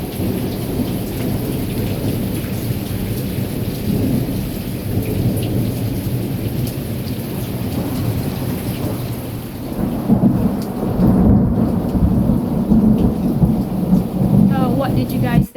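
A thunderstorm during a tornado warning, with heavy rain pouring steadily on surfaces and deep thunder rumbling loudly, the downpour swelling in the later part.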